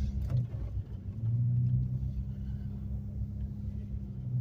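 A small Toyota Camry driving along a snowy road in a blizzard, giving a steady low engine and tyre rumble with a constant droning hum throughout, fairly close and without other distinct sounds.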